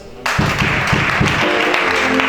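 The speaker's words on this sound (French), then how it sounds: "Acclame ça." Applause from a congregation at a prayer, deliverance and worship gathering, a sudden dense burst of many hands clapping that stays loud and steady, with a faint rhythmic beat underneath.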